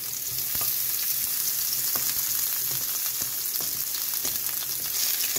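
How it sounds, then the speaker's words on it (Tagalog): Garlic sautéing in a pan after ginger has browned, for a shrimp dish: a loud, even sizzle with scattered crackles and light utensil taps, steady throughout without speech. "Igisa lang natin hanggang maging aroma yung ating bawang."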